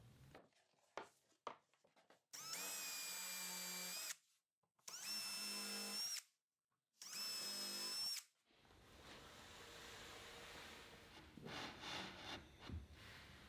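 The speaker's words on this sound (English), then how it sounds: "I'll drill small pilot holes through the inside of the cabinet" A power drill whines in three separate bursts with short pauses between them, drilling small pilot holes in plywood, followed by softer scraping and rubbing sounds against wood.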